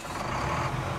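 Truck engine rumbling at low volume in Farming Simulator 19 at night, a steady, muffled drone with faint mechanical texture, no clear beeps standing out.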